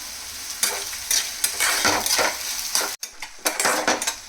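Onions frying in a pan with salt until golden brown, a loud steady sizzle broken by repeated scraping stirs of a spoon against the pan, close and with no talk.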